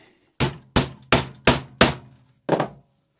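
Six sharp hammer strikes punching through a leather lid, five in a quick even rhythm and one after a short pause, close and loud with no talking.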